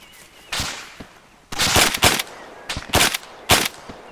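Gunfire in the military video game ArmA 3, heard as several loud, sharp shots in irregular bursts with short gaps, fairly close and with no talk over them.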